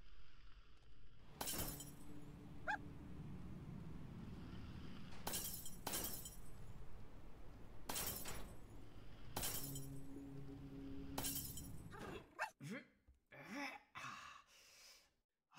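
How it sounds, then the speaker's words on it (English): Glass shatters several times in a video game, with sharp bright crashes spaced a few seconds apart over a steady game backdrop, followed by a brief breathy vocal gasp near the end. "the noise of the glass breaking is very satisfying"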